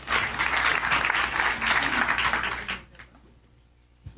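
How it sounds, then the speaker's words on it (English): An audience at a Soweto property network evening breaks into loud, dense applause that carries steadily for nearly three seconds, then cuts off abruptly into a quiet room with faint stray sounds. "So let's just give a round of applause,"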